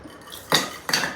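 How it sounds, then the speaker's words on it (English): A chilled coupe glass is emptied while making a Manhattan or Rob Roy cocktail, producing two short glassy clinks and splashes about half a second apart, close and clear with no talk. "once the cocktail is chilled, we'll empty the coupe"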